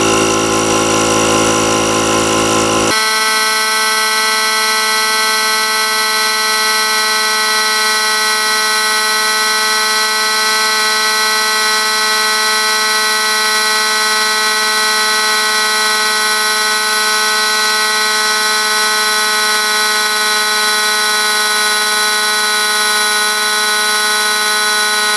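Kobalt 12V portable air compressor running steadily with a loud, continuous whine and motor drone that holds level throughout, after a brief burst of broadband noise at the start.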